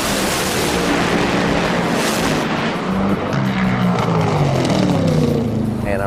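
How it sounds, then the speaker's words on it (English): A race car engine runs loud and steady at close range, its roar rising and shifting in pitch over several seconds with no pauses. "Once they started the car and everything,"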